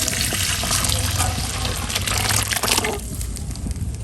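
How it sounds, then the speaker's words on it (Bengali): Thin cooked red lentil dal poured into a pot, a loud steady gushing liquid stream that eases off near the end, close up with no voices. "এবার আমি ডালটা ঢেলে দেবো, এটা পুরো ডালটা"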